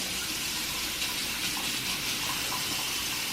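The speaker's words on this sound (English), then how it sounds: "I'm going to turn my sink on to probably about lukewarm water." A bathroom sink tap runs lukewarm water in a steady, close, continuous gush with no talking over it.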